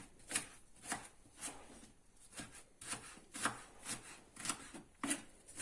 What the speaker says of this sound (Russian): Нарезаем, ну, два лука можно, 2 хватит.